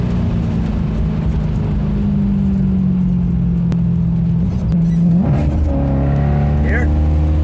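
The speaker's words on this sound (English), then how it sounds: "here it downshifts 2 gears there, blips the throttle and matches it, and it's pretty darn fast" A Maserati Coupe's engine drones steadily under talk, then a quick two-gear downshift with a throttle blip makes the revs jump and settle at a higher pitch, heard from inside the car on the road.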